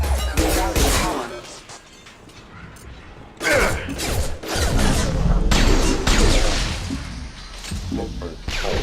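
Heavy gunfire in the Mass Effect 2 video game: loud clustered bursts of shots and impacts that break off, then return in dense volleys, with a voice speaking among them.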